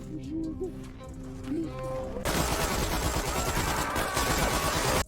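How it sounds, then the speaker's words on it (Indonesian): Burst of gunfire erupts midway through an action film scene as a panicked man shoots in all directions, loud dense rapid shots filling the second half after a quieter stretch of music and ambience. "ia mencoba menembakkan senjata ke segala arah"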